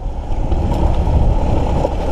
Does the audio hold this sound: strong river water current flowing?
yes